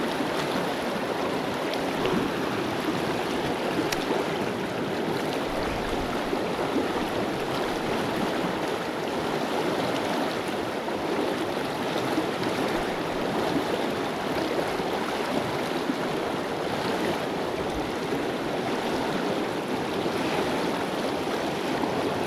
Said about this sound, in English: this water is moving fast.